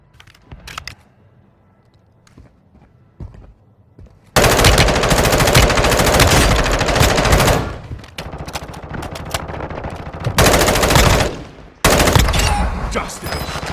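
Loud automatic gunfire in a first-person shooter video game comes in long sustained bursts with brief pauses, after a quieter opening of scattered clicks and shots.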